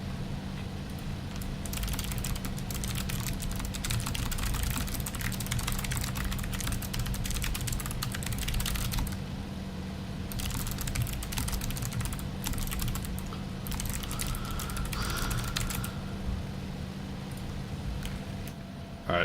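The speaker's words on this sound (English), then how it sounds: "I was just typing a little bit" Rapid clattering keystrokes on a computer keyboard, close and continuous in quick bursts with brief pauses, over a low steady background hum.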